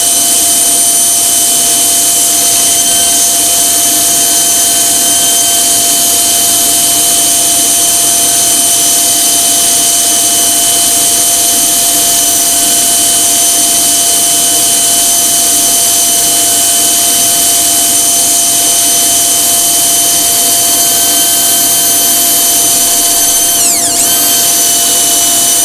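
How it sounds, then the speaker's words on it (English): A power drill fitted with a 120-grit sanding attachment whirs steadily against the inside of a wooden bowl, a loud, constant, close-up hum and grind that runs unbroken for the whole stretch. "So we're going to sand that inside now. Got a 120 grit"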